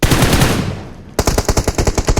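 Loud, close automatic gunfire in PUBG Mobile: a long echoing burst fades, then a rapid rhythmic string of shots rattles off.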